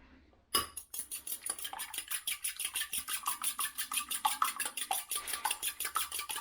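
A small fork whisks rapidly against a bowl, making a steady run of quick, bright metallic clicks and scrapes that starts abruptly and keeps an even, fast rhythm close up with no talk.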